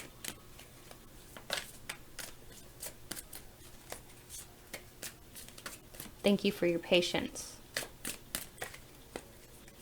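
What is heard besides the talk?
shuffling tarot cards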